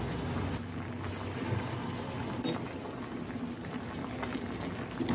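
Noodles boil hard in salted water over a high flame, a dense, continuous bubbling roar that stays loud and even from start to finish, with no one speaking.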